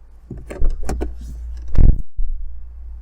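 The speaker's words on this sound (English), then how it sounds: "This is what a solid door looks like and sounds like." A fifth-generation Volkswagen Polo door shuts with one solid, heavy thud, preceded by quieter handling clicks and rustles and followed by a low steady hum.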